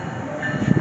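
An Amtrak Acela train passes nearby with a loud, brief rumble and rushing wheel noise that swells in the final moments, with no voices heard.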